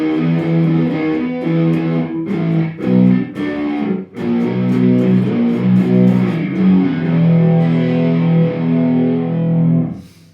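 A distorted electric guitar riff through effects, with notes sliding up into place, sustained and loud, repeating in a steady vamp with brief breaks.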